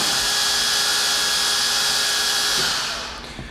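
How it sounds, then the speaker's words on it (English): The gearbox of a 2005 Conquest 23-spindle construction drill line boring machine runs with a smooth, high whine, holding steady at close range before spinning down and fading near the end. "it's a really, really quiet, smooth running gearbox on the Conquest"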